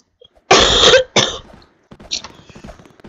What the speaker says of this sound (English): Jeez, I'm coughing a lot.